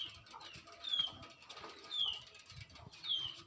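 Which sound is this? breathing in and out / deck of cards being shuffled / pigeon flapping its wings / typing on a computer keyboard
pigeon flapping its wings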